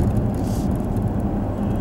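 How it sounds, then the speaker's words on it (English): A 2013 Dodge Charger SRT8 Super Bee idles at about 1500 rpm while cruising near 45 mph in town traffic, heard from inside with the windows up as a steady, low, even engine hum with road rumble beneath it. "it's just kind of idling at 1500, cruising about 45 miles an hour"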